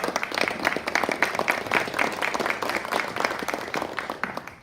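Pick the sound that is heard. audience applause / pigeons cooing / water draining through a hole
audience applause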